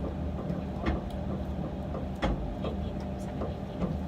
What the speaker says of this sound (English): I can hear the noise from underneath.